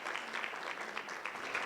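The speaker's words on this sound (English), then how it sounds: "let's give them a round of applause" Applause from the audience at the launch of a medical training and fellowship programme, a brief, faint, dense patter of clapping heard from a distance.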